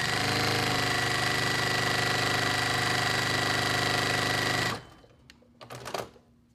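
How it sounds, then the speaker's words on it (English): A sewing machine runs steadily and loudly, stitching paper-heart quilt pieces for nearly five seconds before stopping abruptly, followed by a few faint handling clicks and rustles. "And then I'm just gonna sew these on"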